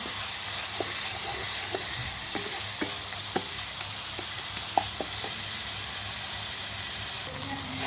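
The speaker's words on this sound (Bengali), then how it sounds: "এখন মশলাগুলি আমি ভালো করে কষিয়ে নেব" Ginger-garlic paste and spice masala frying in a pan for a taro stolon and dried fish curry: continuous close sizzling hiss punctuated by sharp clicks and scrapes of a spatula, no speech.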